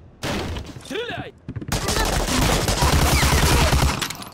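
Rapid, loud gunfire from the World War II shooter Medal of Honor: Allied Assault, firing in close bursts. Game voices and other sounds mix in near the start, and then the shooting carries on dense and continuous.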